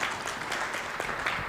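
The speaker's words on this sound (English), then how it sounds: "Give them a very big round of applause." Audience applause at a quality improvement leadership forum in Nairobi honors the three Acquire founders, with steady, moderately loud clapping throughout the brief burst.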